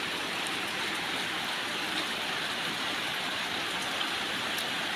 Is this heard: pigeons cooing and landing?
no